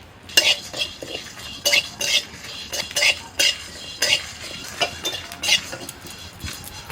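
Dried red chillies, whole coriander and cumin dry-roasting in a wok, with a spoon stirring and scraping in a series of sharp clinks against the metal, spaced irregularly, fairly close and without talk.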